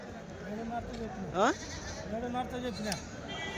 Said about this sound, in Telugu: మరకల మేక మరకలు అన్నీ మేత మేస్తున్నాయి కదన్నా